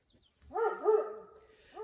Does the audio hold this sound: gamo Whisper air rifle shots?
no